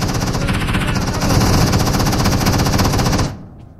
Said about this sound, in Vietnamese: tiếng súng bắn gọi là rền vang rồi